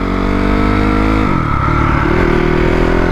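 A non-running dirt bike being revved and shifted up through its gears: a loud, steady engine note that holds, drops sharply at a shift, then climbs again, close and continuous with no talk.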